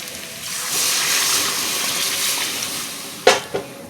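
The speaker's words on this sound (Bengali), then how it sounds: "তো এখন আমি জল দিয়ে দেবো" Water poured into a pan of spiced pointed gourd and prawn curry, a steady rushing hiss that swells into sizzling, then ends with two sharp utensil knocks near the end.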